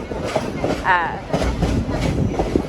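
The Verde Canyon Railroad train rolls along its tracks toward the Perkinsville Valley, a steady rumbling clatter with a brief squeal, heard from on board under a faint murmur of voices.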